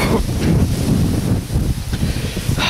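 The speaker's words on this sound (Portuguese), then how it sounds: "Eu acho que a câmera tá pegando muito mais o vento aqui." Strong wind buffets a camera microphone outdoors, a loud, rough, gusting roar with low thumps that fills the whole short stretch.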